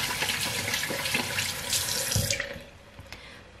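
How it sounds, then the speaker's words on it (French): A bathroom sink tap runs, water gushing steadily into the basin for over two seconds before it is shut off, leaving a few faint drips. "je vais allumer le lavabo pour prendre un peu d'eau"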